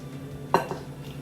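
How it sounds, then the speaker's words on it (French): Amber beer and two eggs are stirred together in a bowl, giving a single sharp clink of utensil against the dish and a fainter tap after it, over quiet kitchen background. "Donc là, on mélange la bière avec nos 2 œufs."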